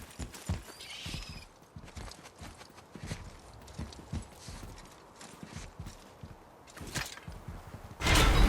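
Horse hooves clip-clop steadily across the ground in the God of War (2018) video game, with a whinny early on and a louder burst of noise at the end; no speech.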